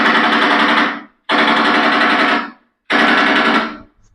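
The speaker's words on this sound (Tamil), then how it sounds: "போன்ல ஸ்பீக்கர் கனெக்ட் பண்ணி புல்லட் சவுண்ட் வச்சேன்" Gunfire sound effect blasted from a phone through a connected speaker during a prank: three loud, close bursts of rapid automatic fire, each about a second long, separated by short silent gaps, with no talking.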